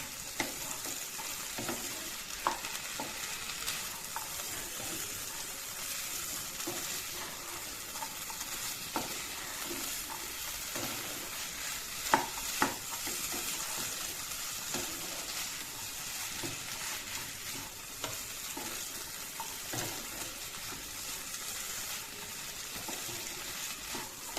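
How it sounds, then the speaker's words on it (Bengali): Onions stirred and fried in a pan while cooking a chickpea (chana) fry, making a continuous close sizzle with frequent light scraping stirs and occasional sharper clinks against the pan throughout. "এবার আমি হালকা কিছুক্ষণ এভাবে নেড়ে চেড়ে রান্নাটা করে নিচ্ছি যতক্ষণ না পর্যন্ত পেঁয়াজগুলো প্রপারলি ঘুরে যাচ্ছে"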